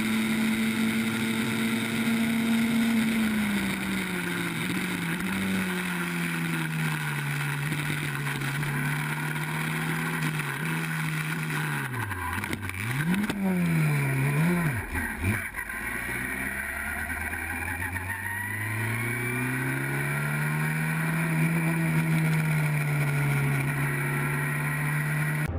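GT race cars at Brands Hatch, an Aston Martin among slower GT4 cars, hold a loud, steady engine drone throughout, with a cluster of quick rev dips and rises midway as cars lift and accelerate, and no voices.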